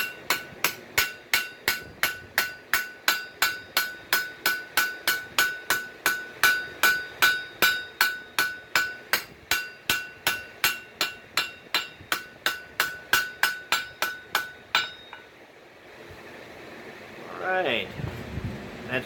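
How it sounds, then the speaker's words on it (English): A hammer planishes steel pipe being forged into a hoe, striking in a fast, steady run of about forty sharp ringing blows close by. The blows stop abruptly and a voice speaks briefly afterward. "Planish a little."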